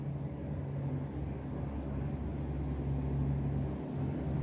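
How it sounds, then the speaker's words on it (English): Many jet skis speed past on a busy lake, their engines merging into a loud, constant droning roar that holds steady throughout with no break and no voices. "that makes about 15 jet skis. And they're flying."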